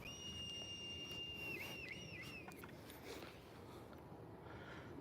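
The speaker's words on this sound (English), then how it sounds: "I don't know if you can hear that kite." High, thin whistling calls of a kite overhead in the UK, a long drawn note sliding into wavering trills, faint against background noise.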